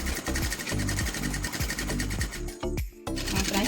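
A sewing machine stitches a ruffled pillow cover in rapid, rhythmic bursts of mechanical chatter, loud and close, with a brief pause near the end before stitching resumes.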